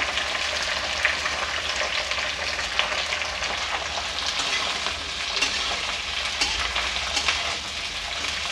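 Okra and onions sizzle steadily in a hot pan, a continuous crackling fry with occasional stirring scrapes, close and fairly loud.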